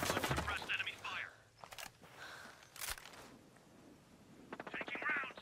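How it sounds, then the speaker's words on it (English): Gunfire in the tactical shooter game Ghost Recon Breakpoint, with sharp bursts of shots breaking in between voiced radio callouts that run through most of the clip. "Unsuppressed enemy fire."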